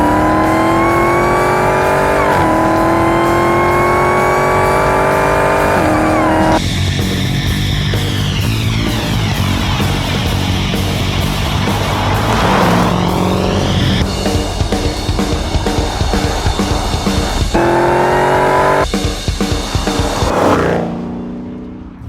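A 2015 Dodge Challenger SRT Hellcat revs hard while driving, its loud V8 climbing through repeated accelerations with sharp gear shifts between pulls, close and powerful before fading out at the end.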